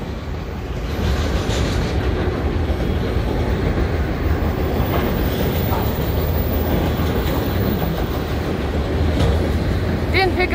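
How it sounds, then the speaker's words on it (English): A BNSF freight train passes close through Bayfront Park with a loud, continuous rumble and rhythmic wheel clatter that holds steady for the whole stretch. "First train of the day."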